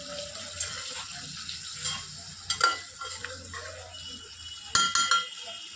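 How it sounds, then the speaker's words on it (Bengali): Curry with yogurt is fried down (kosha) in oil in a pan: a soft, steady sizzle with a few louder stirring scrapes, close and quiet, and no talk. "আবার খানিকক্ষণ কষতে দিয়ে দেবো"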